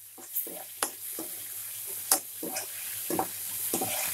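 Ground tomato paste sautéing with onions in a pan for a Maggi Manchurian, giving a soft sizzle broken by several sharp spoon scrapes and knocks, close and fairly quiet, with no talk.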